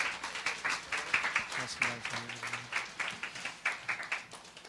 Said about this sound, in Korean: 우리 선교사님 나오실 때 큰 박수로 환영했으면 좋겠습니다.